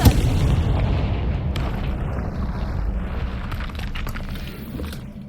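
A Confringo fire spell blasts in the Hogwarts Legacy video game: a loud, close boom at the start, followed by a sustained low rumbling roar that continues steadily throughout.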